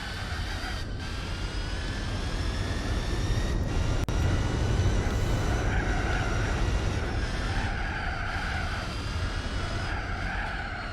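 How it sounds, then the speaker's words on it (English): Tire squeal from a car drifting in Gran Turismo 4, a steady sustained screech with wavering tone riding over a constant engine roar, loud and continuous throughout. "I even have time to go drifting."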